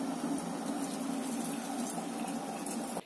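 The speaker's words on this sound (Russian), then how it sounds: "Наливаю в маленький чайничек." Boiling water poured from a kettle into a small teapot, a steady continuous splashing gush lasting about three seconds before stopping abruptly, close and fairly loud with no talk.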